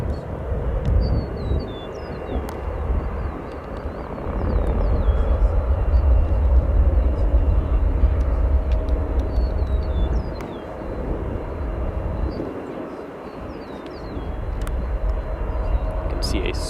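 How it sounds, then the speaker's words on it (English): A Swiss Boeing 777 departs O'Hare bound for Zurich, its engines producing a loud, steady jet roar that swells and lingers with broad low rumble for most of the stretch, while scattered bird chirps sound in the background. "You can see a Swiss 777 there. Departing off to Zurich, Switzerland."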